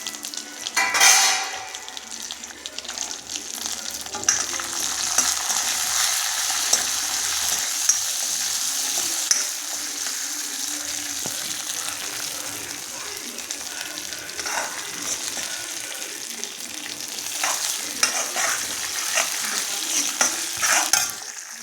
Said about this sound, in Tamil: இப்போ நம்ம இது பாயச பருப்பு, பாதாம், முந்திரி, பிஸ்தா, திராட்சை எல்லாம் சேர்த்து ரோஸ்ட் பண்ண போகிறோம்.